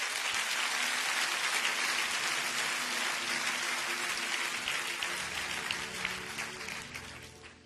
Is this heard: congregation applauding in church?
yes